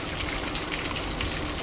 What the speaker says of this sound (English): natural spring water that come out of the rock